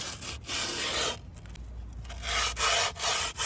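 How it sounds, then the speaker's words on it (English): Sandpaper rubbed along the edge of skateboard grip tape, a close, loud scratchy rasp in repeated strokes with short pauses between passes. "then we're going to sand slightly all the way around the board"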